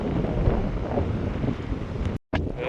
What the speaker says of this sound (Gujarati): પવન નીકળી આવ્યો છે એટલે થોડો ઘણો મોજો થઈ ગયો છે